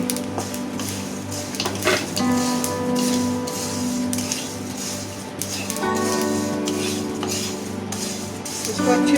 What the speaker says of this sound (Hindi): इसको अच्छे से चलाएं ताकि हल्दी का रंग इसके सारे पोहे के ऊपर आ जाए।